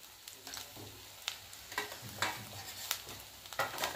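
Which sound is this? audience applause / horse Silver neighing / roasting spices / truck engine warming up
roasting spices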